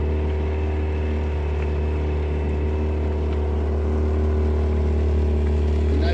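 An outboard motor runs steadily on a yacht on a windless day, a constant low droning hum with a buzzing tone that holds without a break throughout, close by and alone.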